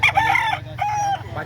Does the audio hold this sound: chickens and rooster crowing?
yes